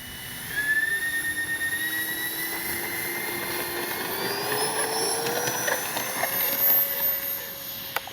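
A Freewing twin 70mm AL-37 RC jet with its electric ducted fans whines loudly on the takeoff run, the pitch climbing smoothly and steadily as the plane accelerates, with no talk over it.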